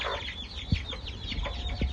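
Hens in a homestead chicken coop cluck and chatter continuously, several birds close by with overlapping calls and occasional sharper squawks.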